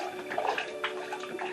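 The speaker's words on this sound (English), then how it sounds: "Giving a bottle a bath." Water running and splashing over a glass bottle in a bathtub, a steady close wash of flowing water with small sloshing bursts throughout.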